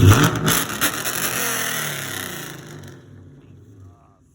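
A car engine roars loudly nearby, revving hard and then winding down to quiet, while someone talks briefly over it.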